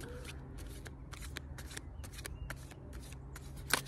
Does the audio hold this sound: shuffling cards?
yes